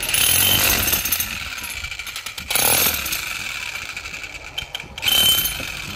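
A used Hitachi electric demolition hammer, said to spark slightly, runs in loud bursts of rapid mechanical hammering close by, easing off briefly and then surging again.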